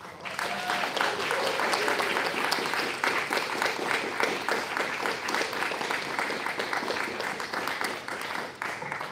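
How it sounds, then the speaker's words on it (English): An audience at a book reading event applauds the authors, dense, even clapping from a sizable crowd that holds steady and loud throughout with a few faint voices mixed in. "can we have one more round of applause?"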